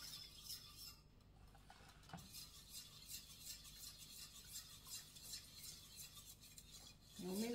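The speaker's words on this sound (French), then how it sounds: "mélange bien pour vraiment que toute la gélatine soit bien dissoute" Spoon stirring a warm flan mixture so five gelatine sheets dissolve, giving soft, continuous scraping and swishing against the pan with a brief clink near the end.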